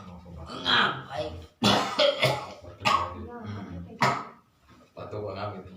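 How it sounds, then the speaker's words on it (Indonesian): A person coughs several times in harsh, abrupt bursts, about four fits spaced a second or so apart, close and fairly loud, with some voiced throat sounds between them. "Batuk ngap gitu."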